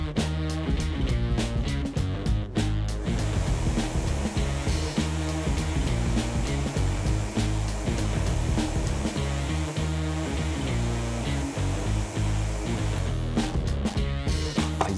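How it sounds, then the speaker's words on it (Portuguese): A hair dryer blowing through a plastic PET bottle roars steadily and loudly at close range with a rushing, airy hiss, running almost without pause. "com uma garrafa pet e um secador de cabelo eu acho que rola"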